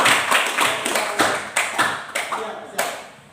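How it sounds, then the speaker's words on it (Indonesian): A small classroom group claps in uneven bursts, several quick rounds of hand claps close by, fading toward the end. "Tepuk tangan yang meriah buat teman kita."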